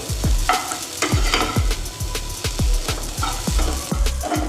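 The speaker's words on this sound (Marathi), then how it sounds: "खोबरं भाजून घेऊया खोबरं पण चांगलं खरपूस रंगाचं असं भाजून घ्यायचं आहे" Grated coconut dry-roasting in a pan for a Maharashtrian black pea usal, stirred with a regular rhythm of loud, close scrapes and knocks, about two per second over a soft background crackle.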